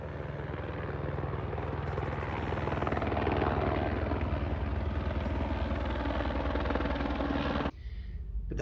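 Helicopters flying over an Australian bushfire near Sydney, a loud steady rotor drone with rhythmic blade chop throughout, mixed with fire-truck generator hum, cutting off abruptly near the end.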